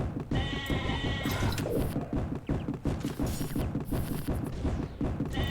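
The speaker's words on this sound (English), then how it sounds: "Angry sheep" Angry sheep bleat in the Overdungeon card game, with a few harsh, wavering cries rising over a dense, busy game soundtrack and thumping effects.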